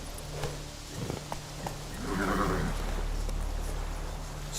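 Roach, a horse in The Witcher 3, hooves clip-clopping along at a steady pace, moderately close, with a brief swell of snorting or whinnying in the middle and constant ambient game background.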